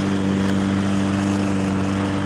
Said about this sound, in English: Husqvarna, if you're watching this, this lawnmower is about 5 years old.